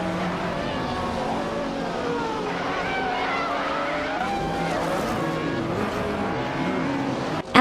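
Race cars roar continuously in a video game race, with engines whining and shifting pitch, tires squealing and skidding, held at a steady loud level throughout, with a sharp burst right at the end.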